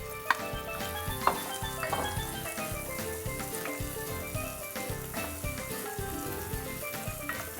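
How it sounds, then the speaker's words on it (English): Two finely diced onions fry in plenty of olive oil and give off a soft, steady sizzle, with occasional stirring clinks and scrapes in a quiet home kitchen. "then we're going to basically fry up our onions in here"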